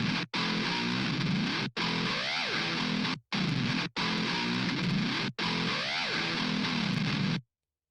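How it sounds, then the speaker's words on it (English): Harsh, heavily distorted electric guitar tones with dubstep-style effects in several loud bursts separated by abrupt cuts, with pitch sweeps inside some bursts, ending in sudden silence. "This one, just get the distortion ridiculous."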